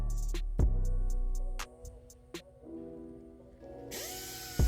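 Power tool working on the old brake rotor of a Nissan Sentra, a close whirring burst that stops, followed by several short sharp clicks and a fading spin-down, then another brief whir.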